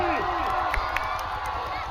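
Crowd at a staged wrestling-style event cheering and clapping loudly and continuously, with shouts and a voice over the din, dense and close throughout.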